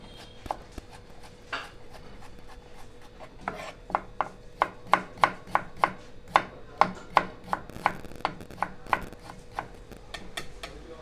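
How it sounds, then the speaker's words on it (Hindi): Carrots are chopped with a knife on a board in an Indian hotel kitchen, prepared for Chinese noodles; crisp, evenly spaced knife strikes start sparse, then settle into a quick, steady rhythm. "कैरेट को एकदम चॉप करना है"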